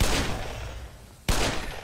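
Two gunshots fired in the Black Mesa video game, one at the start and another just over a second later, each a sharp loud blast followed by a decaying tail.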